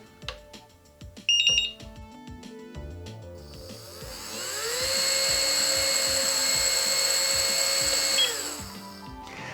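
A small electric motor tested on a GT Power X2 Pro whirs up to a steady high-pitched whine, holds for several seconds, then winds down, after a few brief clicks and beeps.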